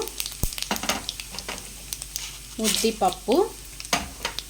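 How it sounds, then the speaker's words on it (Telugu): Mustard seeds, cumin and chana dal hit hot oil in a tempering for pulihora masala, crackling and popping in irregular bursts, with sharper spitting clusters midway and a brief voice-like murmur. "ఇప్పుడు ఫస్ట్ ఆవాలు అయితే వేస్తున్నాను తర్వాత జీలకర్ర శనగపప్పు"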